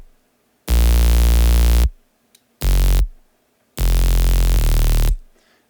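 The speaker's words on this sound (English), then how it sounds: "It's just a saw wave pitched down 2 octaves, and then with some white noise and just tube distortion." Synth bass built from a saw wave pitched down two octaves with white noise and tube distortion, three buzzy, heavily distorted notes of differing length, each cut off sharply with silence between.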